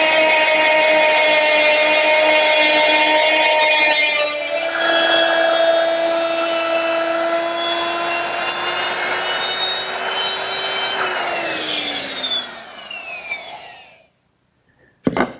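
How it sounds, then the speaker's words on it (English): Router with a 3/8-inch cove bit milling the edge of a wooden table leaf, a loud, close high-pitched whine with cutting noise that holds steady, shifts pitch as the bit works the wood, then spins down and stops. "now I'm going to mill the corresponding edge of the leaf with a 3/8" cove bit"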